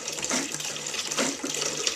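Water gushes and splashes steadily out of an AeroGarden Bounty hydroponic garden unit as it drains, a continuous bright rushing stream with faint surges and no voices.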